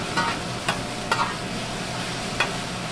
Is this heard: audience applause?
no